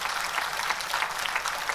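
An audience at an honouring ceremony for Dr. Raghunath Mashelkar in Goa breaks into sustained applause, a dense patter of many hands at moderate distance, with no voices over it.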